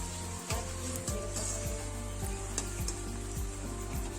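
Luchi, the puffed bread, frying in oil gives a steady sizzle with soft rhythmic scraping or pressing strokes at regular intervals, close and quiet.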